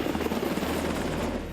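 A Coast Guard H-60 Jayhawk helicopter gives a loud, continuous roar of rotor and engine, with a pulsing chop through a short burst and no voices.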